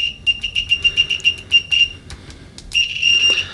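A Mastercraft AC clamp meter gives its continuity test beep, a loud, close, high tone that stutters in rapid broken bursts as the probes make scratchy contact, then holds steadier near the end.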